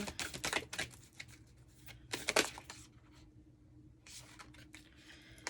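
Moonology tarot deck shuffled by hand in bursts of crisp riffling card flutter, close and fairly quiet, with short pauses between the flurries.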